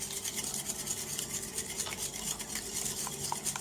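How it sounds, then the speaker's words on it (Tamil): Beaten eggs and sugar whisked together in a bowl for French toast, a steady scraping and clinking of a utensil against the bowl, continuous and close, with no talking. "அதையும் சேர்த்து நல்லா கலக்கிடுவோம்"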